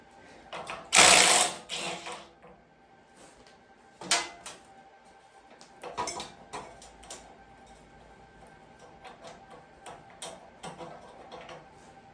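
Socket wrench fitted with a 22 mm socket ratcheting a nut off, a loud burst of clicking near the start followed by scattered shorter ticking ratchet strokes, close and alone.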